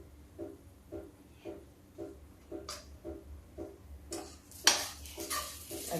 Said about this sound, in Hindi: अब इसको सबको हम मिक्स करते हैं।